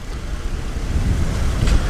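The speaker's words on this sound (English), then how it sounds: "it's definitely very windy here." Strong wind buffets the microphone outdoors at a car show at the Mill Meece steam pumping station, a loud, low, rumbling roar that fluctuates in gusts throughout the short stretch.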